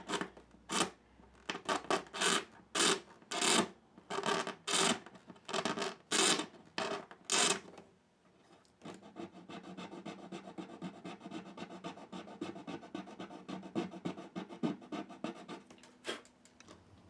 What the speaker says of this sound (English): we're just going to scrape it back